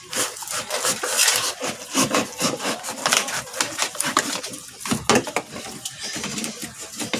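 Plastic from an old fridge interior being cut through by hand to make a hole without a drill, a close, rapid rasping and scraping with uneven strokes and occasional sharp snaps, no talk.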